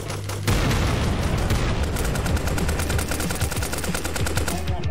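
Rapid automatic gunfire in the survival video game Trident Survival, a dense, loud burst of shots fired in quick succession for several seconds with booming impacts, no voices.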